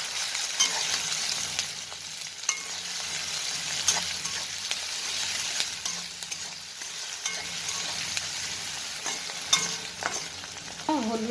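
Onion frying in a pan with ginger garlic paste added, stirred steadily, giving a continuous close sizzle broken by frequent scraping clicks of a spoon against the pan, with no talking.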